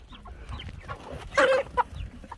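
Brown egg-laying hens on a ranch cluck nearby, a scattered run of soft clucks with a couple of louder squawks in the middle.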